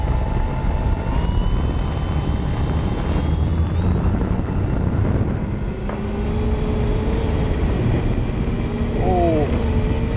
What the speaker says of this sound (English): J3 Cub on the north end, taking off towards the south.